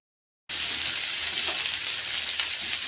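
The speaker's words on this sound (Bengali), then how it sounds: "গাজরটাও একটু ভেজে নেব সামান্য।" Carrots and onion frying in oil in a pan, a steady close sizzle that starts abruptly and continues evenly with no talking.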